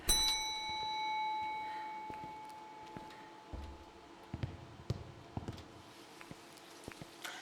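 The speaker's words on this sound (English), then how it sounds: "always gotta ring dong that doorbell" A doorbell rings in the ghost-hunting video game Phasmophobia: a clear chime tone rings out at the start and fades over about two seconds, then scattered faint clicks and taps follow over a quiet background.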